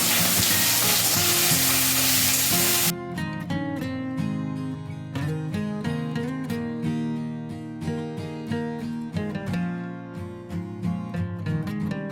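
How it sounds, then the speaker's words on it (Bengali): Meat sizzles loudly in a frying pan in a home kitchen for about three seconds, a dense crackling hiss, before it gives way to music. "এখানে আমি মাংস ভাজাটা বসিয়ে দিচ্ছি"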